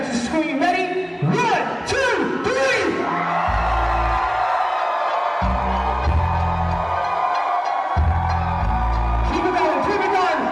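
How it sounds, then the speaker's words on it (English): Wedding reception guests from the groom's side scream and whoop together as a crowd, loud and sustained across the whole stretch, with deep booming party music thumping underneath. "Groom side, scream!"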